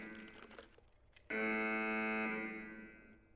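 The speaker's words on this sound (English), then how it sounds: "Just because of this alarm." A loud, steady electronic alarm blares in Escape from Tarkov, starting abruptly after a stretch of muffled ambient noise and holding a harsh buzzing tone for about two seconds before gradually easing off.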